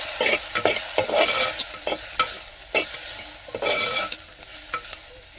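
Spices such as chili powder and coriander powder being stirred into okra curry frying in a pan, with repeated scraping strokes of a spoon over a steady close sizzle, no talking.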